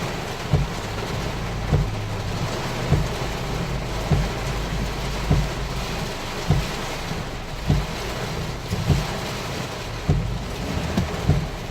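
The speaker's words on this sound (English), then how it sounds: "Here comes a serious rain right now." Heavy rain pours steadily in a dense hiss, with regular dull thumps recurring every second or so throughout.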